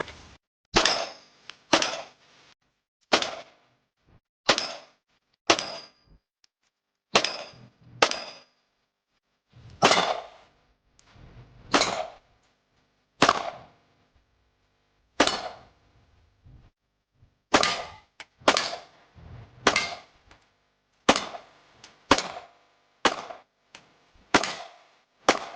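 A REVOARMS IS-9 9x19 pistol is fired outdoors in a long string of loud, sharp reports, some in quick pairs and short bursts, others spaced a second or more apart, each with a short echoing tail.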